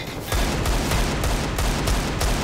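Rapid pistol shots ring out in a competitive Counter-Strike match on the Overpass map, firing in a close, loud, fairly even string of sharp cracks about every third of a second.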